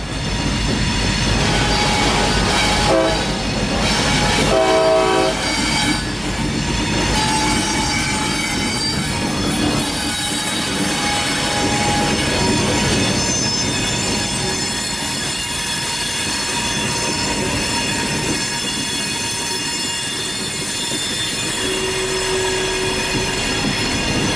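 A long freight train with its locomotives reversed rumbles steadily past at close range, wheels squealing and clanking over the rails, with a sustained heavy drone throughout. Palmetto Subdivision.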